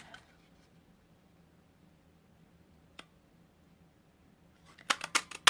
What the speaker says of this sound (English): Those are the ones I have to hand cut.